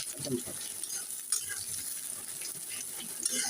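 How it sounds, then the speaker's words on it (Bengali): Boneless fish and chopped onion frying in plenty of oil while being stirred, a faint, fairly quiet sizzle with scattered utensil scrapes and a couple of light knocks, no voices. "ভালো করে নেড়ে চেড়ে ভেজে নেব বাদামি"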